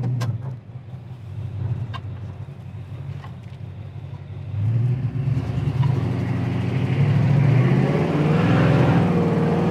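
A 1972 Plymouth Satellite with its 400 engine pulls hard on a test drive, a steady car drone that swells and rises in pitch as it accelerates through the second half, loud and close with no talking.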